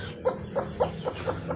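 A broody Golden Misri breed hen that has just hatched a chick clucks in a steady series of six short, close calls evenly spaced over a quiet background.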